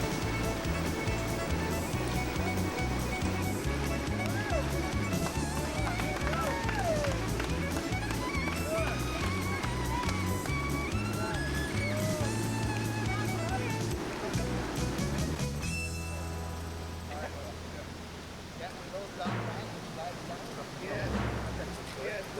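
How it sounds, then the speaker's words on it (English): River rapids roar as an empty canoe runs fast water on the Suwannee River, a constant loud rush with background music over it that thins out near the end. "listen to the roar of the rapids"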